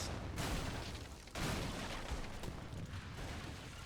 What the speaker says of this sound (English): You can hear a bit of gunshots, but I can turn it down if needs be